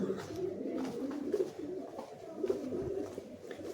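Pigeons coo in low, rolling phrases, repeated steadily over a faint ambient background with no talking.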